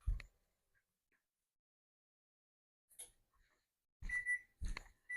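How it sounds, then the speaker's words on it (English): A kitchen timer sounds off near the end with a few short, sharp electronic beeps after a long stretch of near silence, fairly faint and close by. "there goes the timer"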